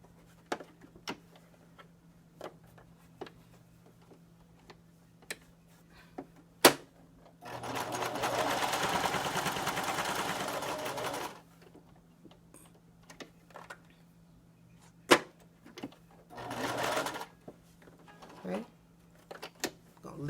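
A sewing machine stitches a fabric face mask in two bursts, a longer steady whir and a shorter one later, with scattered clicks and knocks of handling around them and no talk over it.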